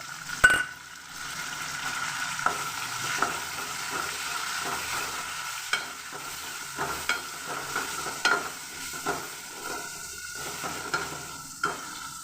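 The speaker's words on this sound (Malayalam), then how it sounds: "ഇനി ഞാൻ അതിന് വേണ്ടി ഒരു ചെറിയ തക്കാളിക്ക എടുത്തിട്ടുണ്ട്, അതും കൂടെ നമുക്ക് എണ്ണയ്ക്കകത്ത് മൂപ്പിക്കാം" A small tomato frying in hot oil in a pan for rasam, with a steady quiet sizzle broken by repeated spoon-stirring scrapes and light clinks against the pan, unevenly spaced throughout, no talking.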